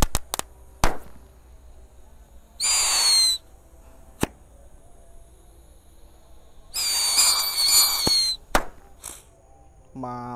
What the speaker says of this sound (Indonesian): Di sini ada mercon tikus santor. Kita nyalakan satu pak sekaligus guys.